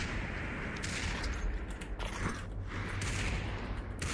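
Gunfire in the video game Population: ONE, with a steady loud din of shots and bursts and a few sharper, overlapping reports.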